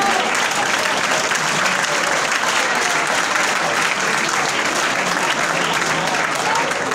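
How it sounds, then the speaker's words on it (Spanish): A film festival audience applauds during an award presentation, with a continuous, even wash of many hands clapping at a steady level from start to finish. "¡Merece un aplauso!"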